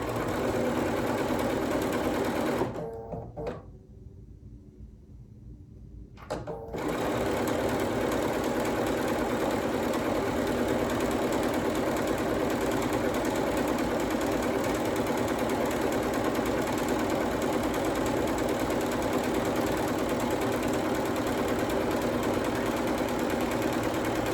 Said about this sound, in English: Let me just stitch this really quick.